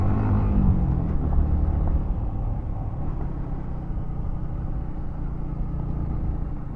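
A Yamaha MT15 motorcycle ridden off-road in the morning near Kalburgi, its engine a loud, close, continuous low rumble that stays steady throughout.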